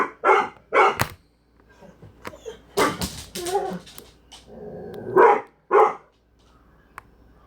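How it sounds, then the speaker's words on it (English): A dog barks and yips in loud, close bursts, several quick barks in clusters with short pauses and a soft whimpering yip between them, no voices. "Welcome to 10 hours of dogs barking."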